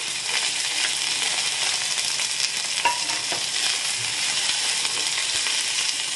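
Sliced okra and green chillies fry in coconut oil in a clay pan, a dense, steady sizzle throughout with a few faint stirring scrapes, close and continuous.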